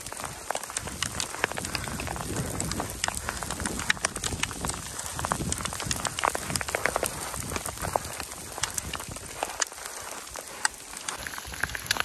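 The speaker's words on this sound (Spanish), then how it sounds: "Vean el tamaño de granizo" Dense, steady pattering of large hailstones striking surfaces all around in a storm at Cotopaxi National Park, Ecuador, a constant crackling clatter that continues without pause.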